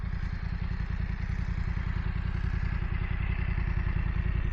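A BMW F900R motorcycle engine idles steadily with a deep, rapid, lumpy exhaust burble, close and continuous.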